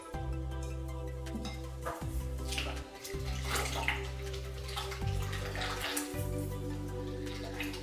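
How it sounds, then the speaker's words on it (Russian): A liter of milk is poured into a pot with a continuous splashing, gurgling flow over a steady low hum, close by and uninterrupted for several seconds. "Доливаю оставшееся молоко, 1 литр."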